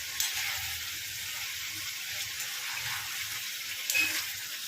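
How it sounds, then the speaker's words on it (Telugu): Chicken pieces fry in oil as water cooks out of the meat, a soft steady sizzle and bubbling with occasional light stirring clinks, fairly quiet, without speech. "ఇది ఫ్రై అవ్వడం అయితే స్టార్ట్ అయ్యిందండి"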